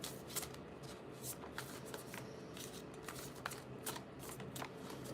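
Tarot cards being shuffled by hand, close and fairly soft, a continuous papery riffle broken by repeated sharp card snaps at an irregular rhythm.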